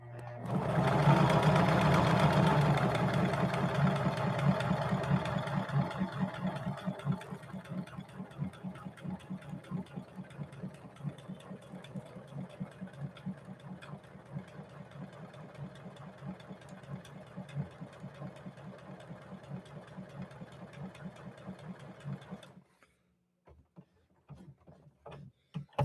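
A Juki HZL-353ZR-C sewing machine runs a stretch straight stitch, a steady rapid mechanical clatter with a low motor hum, loudest at the start and then even until it stops near the end, leaving faint clicks.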